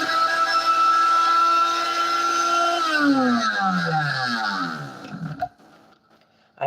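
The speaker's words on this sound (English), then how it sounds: "I don't want to burn up the motor of the blender" A blender motor whirs loudly and steadily while grinding coconut into flour, then its pitch slides downward as it spins to a stop, leaving near silence at the end.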